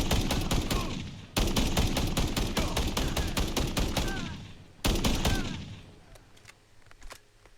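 An automatic MW JAK-12 shotgun fires .308 rounds in Fallout 4 in two long, rapid, loud bursts of close shots, each fading into a trailing echo.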